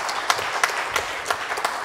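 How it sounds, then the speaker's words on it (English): An audience claps for the MCs at a business competition event, a modest, fairly even patter of hands with a few sharper individual claps standing out. "Please give them a round of applause."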